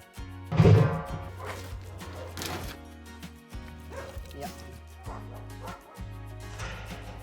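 Dogs at an Istanbul animal shelter let out a loud close bark near the start, followed by scattered yips and whimpers over a steady background of other sounds.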